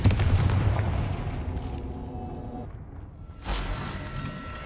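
Confringo spell blasts in the Hogwarts Legacy video game, with a heavy explosive rumble at the start that fades out, then a second sharp burst near the end, loud and without speech.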